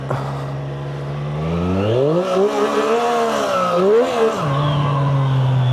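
A motorcycle engine idles low, then revs up in two rising and falling surges before settling back to a steady idle, loud and close with no talk.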